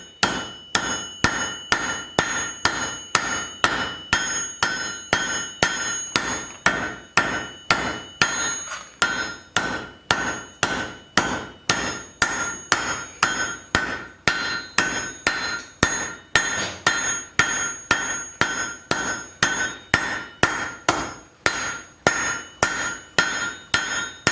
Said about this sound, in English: Then, on top of the anvil, I'll forge this smaller all the way out to the end.